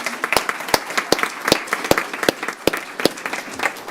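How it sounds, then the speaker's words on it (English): Applause at a school board meeting, with a few distinct, sharp hand claps standing out in a roughly regular beat over a lighter background patter of clapping from a small audience. "So if we can give them a round of applause for being here tonight"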